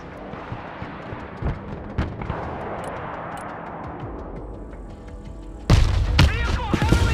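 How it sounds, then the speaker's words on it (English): Artillery volleys in the video game Broken Arrow, a series of heavy thuds and booms at irregular intervals, some distant and muffled, ending with a loud close blast and rumbling aftermath. "Their artillery fires volley after volley without repositioning."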